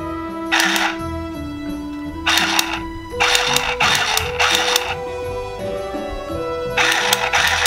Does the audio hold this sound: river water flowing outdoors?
no